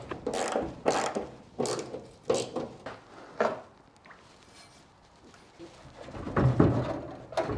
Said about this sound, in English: so now we're going to undo the bolts of the fuel tank